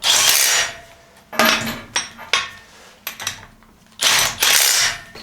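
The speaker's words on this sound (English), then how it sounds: "Put your nuts on back here and run them down." Nuts run down onto a portable pipe squisher assembly, heard as bursts of metallic clattering and ratcheting with short pauses between, close and fairly loud, no talking.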